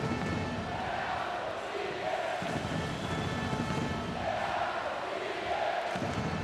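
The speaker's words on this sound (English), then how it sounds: "Crowd getting into it." Spectators cheer in an ice hockey arena during Russia versus Slovakia at the 2018 IIHF World Championship, a sustained roar swelling and dipping throughout.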